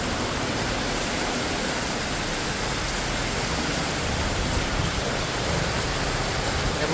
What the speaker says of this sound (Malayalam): ഒരു രക്ഷയില്ലാത്ത മഴ എല്ലായിടത്തും